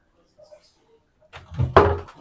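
A drawer at the private bar of a luxury junior suite at Okada slides and knocks shut, with faint small clicks first and a louder thud, all under a voice.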